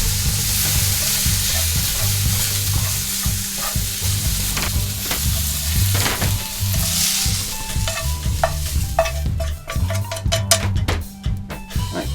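Meat browning in a pan with a spice mix, prepared for Durban bunny chow curry: steady sizzling and frying under repeated stirring scrapes and clinks of a utensil against the pan, close and fairly loud.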